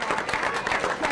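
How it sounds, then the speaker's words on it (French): A crowd applauds loudly with dense, sustained clapping at the podium ceremony of a cycling race, the 11th Boucles du Haut-Var, in 2014. "On applaudit bien fort Bastien Ligulti, deuxième"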